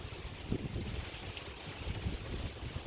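Gusty wind buffets a camera microphone outdoors on Phu Quoc, Vietnam, a steady low rumble with swelling bursts throughout, no voices.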